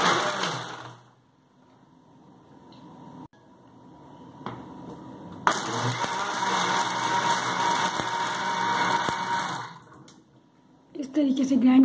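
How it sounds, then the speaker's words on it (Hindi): A kitchen blender grinds falsa fruit for juice in two bursts. A short run fades out, the motor restarts, and a loud steady whir holds for about five seconds before winding down. "इस तरीके से ग्राइंड करेंगे, तकरीबन 3 राउंड लेंगे हम इसके"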